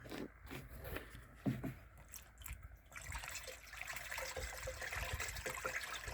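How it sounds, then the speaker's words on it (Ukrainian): Water pours steadily into a garden sprayer tank with a continuous gushing rush, preceded by a few faint knocks and scrapes. "Заливаємо водою."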